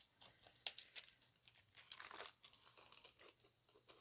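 Close, quiet crinkling and snipping of plastic, a sharp snip near the start followed by scattered rustles and small cuts.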